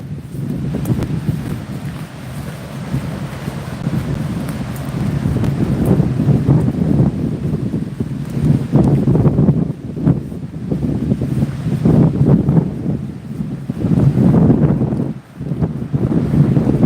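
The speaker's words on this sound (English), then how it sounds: "Definitely windy." Steady wind buffeting and rushing across the microphone, with gusts swelling and easing throughout, on the Washington coast at Kalaloch; no voices.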